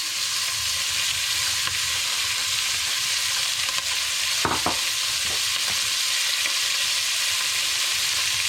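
Steady sizzling of onion frying in a hot pan, with a couple of brief stirring scrapes midway and no talking.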